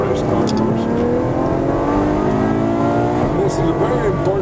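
Race car engine accelerating hard on the track at COTA, a loud, steady onboard drone with rising harmonic pitch as it builds toward about 150, then a brief dip and climb again near the end.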